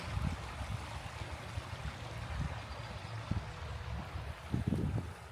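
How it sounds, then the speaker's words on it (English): A small waterfall in a backyard creek gives a soft, steady rush of flowing water, fairly faint, with a few low thumps and no talk. "Love the sound of the little waterfall"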